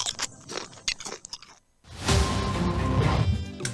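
A crunchy Bisco cream biscuit is bitten in an advert, a loud close crunch and crumbling chew that follows a few quicker, lighter crackling sounds and a short pause.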